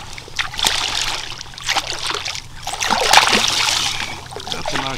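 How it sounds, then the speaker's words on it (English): Hooked trout thrashing at the surface of a river in winter, with several bursts of splashing and sloshing close by, the loudest near the middle, and faint water movement between the bursts. "That's a nice little splash in the face"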